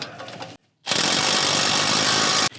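A power tool runs in one loud steady burst of close buzzing whir while a front brake caliper bolt is tightened on a RAM 1500 pickup, after a short pause of near silence.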